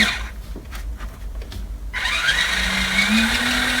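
A 1:16-scale Xiaomi Suzuki Jimny remote-control car's electric motor spins up to top speed, a rising, whining hum that settles into a steady high-pitched drone close by after a quieter start.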